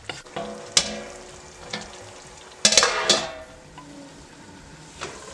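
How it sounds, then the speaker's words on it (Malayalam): Kadai chicken curry stirred in a pan, a steady sizzle broken by a few sharp spoon scrapes and knocks against the metal, close and fairly loud with no talk. "നമുക്ക് ചിക്കൻ ഒന്ന് ഇളക്കിയിട്ട് കൊടുക്കാം."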